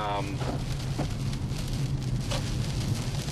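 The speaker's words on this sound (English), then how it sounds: "We are getting heavy rains from what was Hurricane Earl, remnants of Hurricane Earl." Heavy rain from the remnants of Hurricane Earl falls in squalls on a flooding morning, a steady, dense hiss with no letup, close and loud throughout.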